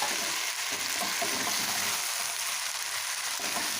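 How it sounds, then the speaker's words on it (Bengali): Vegetable chow mein with winter vegetables, soy sauce and Maggi masala is stir-fried in a pan, a loud, close, continuous sizzle with scraping stirring noises running through it. "দিয়ে দিলাম এক চামচ মতো সয়া সস এবার ভালো করে আবার একটু মিশিয়ে নিচ্ছি"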